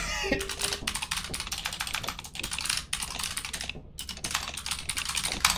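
Rapid, steady clatter of computer keyboard typing during a Lethal Company gaming session, close and continuous for several seconds with no talking.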